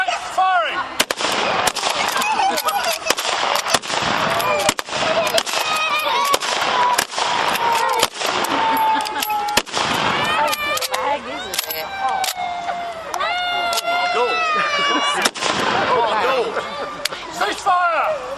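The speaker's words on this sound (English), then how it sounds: "The rapid fire of these Lee Enfields and the skill of the marksmen using them" Rapid volleys of Lee-Enfield rifle fire at a WWI reenactment, many loud sharp cracks in quick succession over about eighteen seconds, echoing outdoors with crowd and voices faintly in between.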